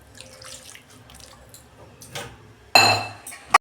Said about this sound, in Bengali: কষানো হয়ে গেছে, জল দিচ্ছি আমি।